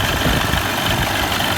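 A boat engine idling after its blown-out spark plug hole was rethreaded and tapped, a dense, steady, loud mechanical hum with vibration, heard close up and alone.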